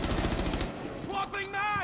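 A gunshot headshot in Rainbow Six, with a quick burst of loud, close firing followed by a brief game announcement tone and a layered electronic chime.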